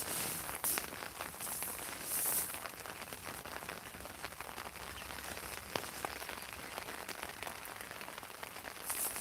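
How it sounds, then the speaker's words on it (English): Steady, close rain patters across a surface for the whole stretch, a dense even hiss with scattered heavier drops and faint rustling, no voices. "It's raining."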